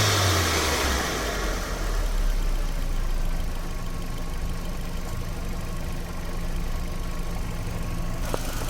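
A Volkswagen GTI 1.8T engine with a turbo intake runs close by, its low rumble swelling as it revs and settling back toward idle, with a whooshing intake hiss and no talking.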